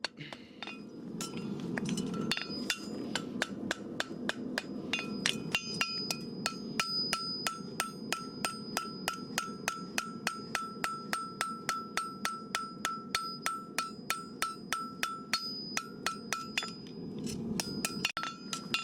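Hammer strikes shaping a handmade horseshoe at a farrier's forge, a long run of evenly spaced ringing metallic blows with bright clinks, steady rhythm, close and clear with no talking.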